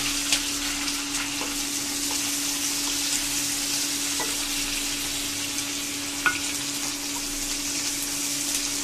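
Green chilies and onions frying in a pan, a steady close sizzle with occasional sharp pops and spatters throughout, no talking.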